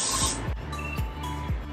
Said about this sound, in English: I'm going to secure this in place with some hairspray. This is from Schwarzkopf.